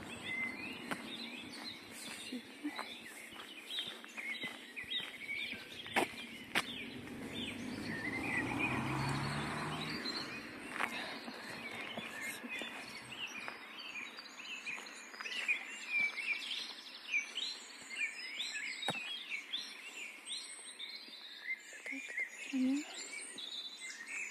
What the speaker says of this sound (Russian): Сейчас птички притихнут.